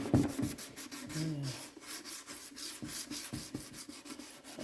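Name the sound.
sanding a headlight lens with Turtle Wax restorer kit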